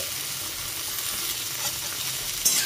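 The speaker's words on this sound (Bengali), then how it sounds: "একে একে আমি সমস্ত সবজি দিচ্ছি আর একটু নাড়াচাড়া করে নিচ্ছি।" Chopped radish, carrot and other vegetables for a labra offering sizzle steadily in a hot pan, a soft continuous frying hiss with faint stirring scrapes and a small clink at the end.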